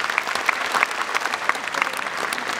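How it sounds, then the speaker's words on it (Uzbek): Audience applause at the premiere of the film "Islomxo'ja": dense, steady clapping from a large crowd in a hall, with sharper individual claps standing out, continuing without pause. "Qarsagina olqishlaymiz."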